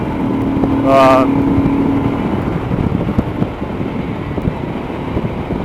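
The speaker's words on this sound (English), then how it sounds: "It's a fantastic little motorcycle." A Royal Enfield Himalayan motorcycle engine drones along a road under heavy wind rush, with a brief higher whine early on, then a steady rumbling buzz as it rides.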